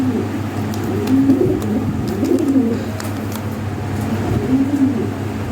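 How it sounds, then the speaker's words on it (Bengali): Caged pigeons for sale coo in repeated low, soft phrases close by, over a steady background hum with faint passing traffic. "শক্তিশালী কবুতর"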